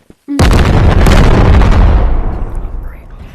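An RPG rocket detonates in the VR game Animal Company: a sharp, very loud close blast that rumbles heavily and fades out over about three seconds.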